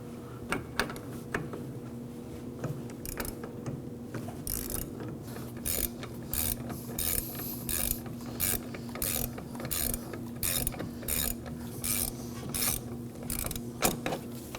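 A hand ratchet with a 19mm socket removes a nut on a Nissan Armada rear air shock, clicking in repeated quick bursts of close, crisp ratcheting with short pauses between strokes.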